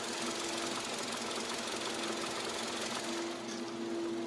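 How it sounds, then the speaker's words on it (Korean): A Kia K5 LPi with an LPG engine idles in a steady, even hum with a faint mechanical tick, quiet and unchanging throughout. "엔진 소음 먼저 들려드리면은"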